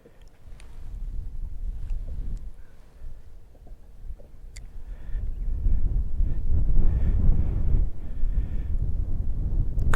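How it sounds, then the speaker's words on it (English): Strong wind buffets the microphone on a crappie fishing boat out on the water, a loud, steady roar that swells and rumbles heavily, with a few faint ticks and knocks underneath. "This wind is brutal."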